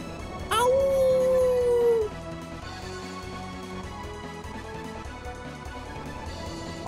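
A dog in the video game Valkyrie Profile lets out one loud, sustained howl that rises and trails off over about a second and a half, above steady game music.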